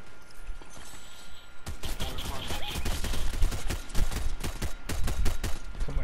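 Rapid video-game gunfire from Fortnite starts after a brief quiet lead-in and continues as dense, loud bursts of shots, with sporadic gameplay sounds in the background.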